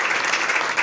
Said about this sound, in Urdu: آئیے خدا یسوع کے لیے زوردار تالیاں بجائیں۔